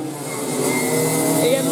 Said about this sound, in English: Dags is behind him, chasing him down through Tyrrells now.